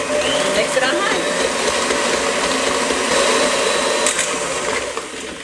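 An electric mixer beats eggs on high speed, a steady loud whirring motor drone that runs unbroken for the whole stretch.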